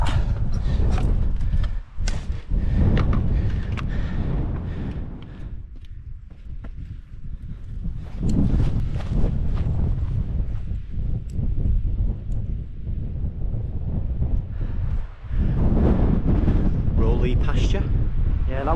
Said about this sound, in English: Wind's picking up. Warm wind, but still a strong wind.